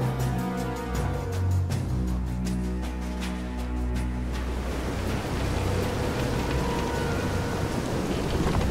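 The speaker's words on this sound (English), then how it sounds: "This is some storm." Heavy storm rain pours steadily from a boat at sea in the video game Visions of Mana, with dense broadband hiss and low rumbling thunder; the first half carries a repeated low tonal pulse before the noise takes over.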